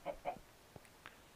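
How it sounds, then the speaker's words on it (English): Chickens clucking in the Minecraft video game: a couple of quick, close clucks at the start, then faint scattered blips over a quiet background. "There's another chicken here someplace"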